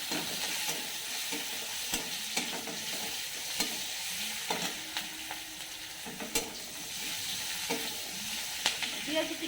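Onions frying in oil with dried red chilies, a steady close sizzle with repeated stirring scrapes and light utensil clatter throughout.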